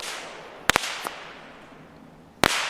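Wet fireworks going off like firecrackers outdoors: a few sharp, loud bangs in quick pairs, a fainter pop, then another close double crack over a steady hiss of background noise.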